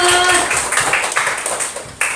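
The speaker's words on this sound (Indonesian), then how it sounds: "Ternyata tepuk tangan dulu." A small group claps hands briefly, scattered quick claps close by with a few voices mixed in.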